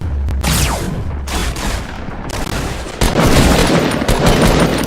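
Video game gunfire in a rapid crackle of shots and booms during an early-game fight, loud and near, with a denser, heavier volley of fire in the second half.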